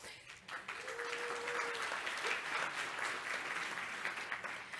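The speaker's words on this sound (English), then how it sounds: "I wanted to ask you for great applause for our organizers for great agenda today." Conference audience applauding the organizers at a web developer talk, a sustained even wash of clapping with a brief tonal whistle or voice early on.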